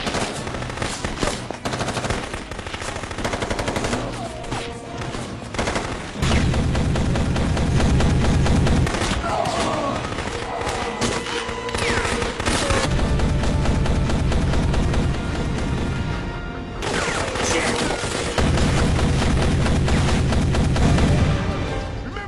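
Dense film battle gunfire, with rapid bursts of shots and booms from heavy weapons filling the whole stretch, loud and close with no talking over it.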